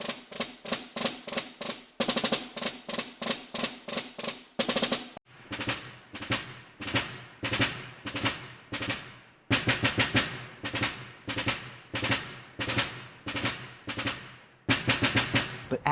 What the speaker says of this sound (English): And when I just walk up and play Movement 4,